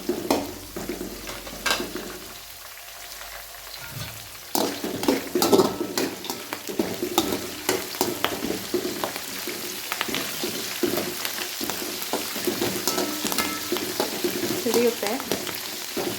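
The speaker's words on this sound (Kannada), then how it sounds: "ಖಾರ ಎಲ್ಲ ಬಿಡಬೇಕು ಎಣ್ಣೆ, ಅಲ್ಲಿವರೆಗೂ ಫ್ರೈ ಮಾಡ್ಬೇಕು." Crushed garlic, curry leaves and green chillies frying in hot oil, giving a steady dense sizzle and crackle with occasional stirring scrapes against the pan, loud and continuous throughout.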